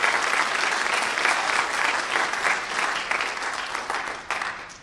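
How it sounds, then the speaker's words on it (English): An audience at a college speech and debate night claps steadily in a dense, loud round of applause that holds evenly for several seconds without talk. "So if we could all give him a round of applause,"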